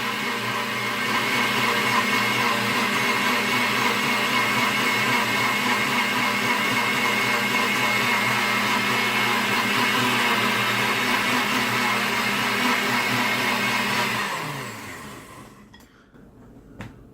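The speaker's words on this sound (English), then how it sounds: "This is our old KitchenAid blender." An old KitchenAid blender, about 25 to 30 years old, roars steadily for about fourteen seconds while blending chopped cucumber, then winds down and stops, leaving near silence.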